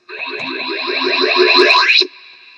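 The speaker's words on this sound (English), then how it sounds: "When you hear the sound of the laser gun" A laser gun effect from a 1984 GoBots book-and-cassette tape: a sweeping electronic zap with warbling, echoing pulses, loud and sustained for about two seconds before cutting off to a faint tail.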